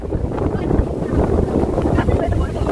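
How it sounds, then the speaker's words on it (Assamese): Strong wind buffets a camera microphone outdoors during a wind and rain storm, a loud, unbroken low roar and rumble filling the whole stretch. "কেমেৰা কোৱালিটি অলপ বেয়া হৈ গৈছে কাৰণ বতাহটো একদম বেয়া থাকিব পৰা নাই"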